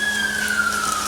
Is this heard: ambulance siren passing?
yes